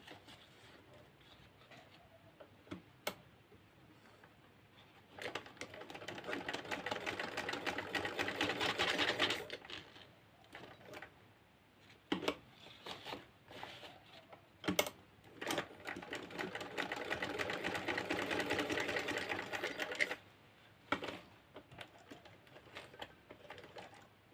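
A sewing machine stitching seams on palazzo pants, fast rattling bursts that start and stop, with quiet pauses and brief clicks between runs; no talking.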